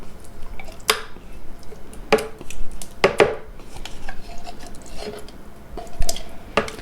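Canned pure pumpkin is scooped and plopped into a blender jar, with a handful of wet thuds and clinks from a spoon against the container, spaced irregularly and close, with no talk.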